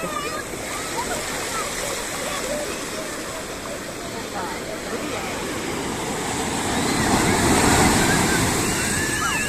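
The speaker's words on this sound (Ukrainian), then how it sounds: "Ось така хвиля." Ocean waves at the shore in Puerto de Santiago, Tenerife, after heavy rain, a continuous splashing surf roar that swells louder toward the end, with a voice talking at times over it.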